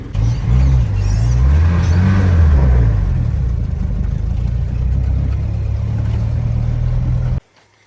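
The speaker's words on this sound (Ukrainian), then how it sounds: "Дивіться, які чудеса волжанка творить на новій резині. Дрифтує по піску." A GAZ Volga on new tyres drifts across sand, its engine loud and close, revving and wavering in pitch for several seconds before cutting off abruptly near the end.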